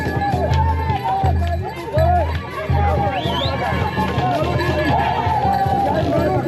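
Azam FC fans in Mbeya greet the team with a loud, continuous crowd din of cheering, shouting and babble, with whistles and voices rising close by throughout.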